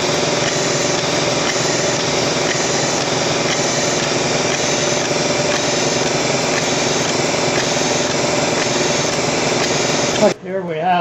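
A Torquerack engine from 2007 runs steadily and loudly with a dense mechanical clatter and hum, unbroken for about ten seconds before cutting off abruptly near the end.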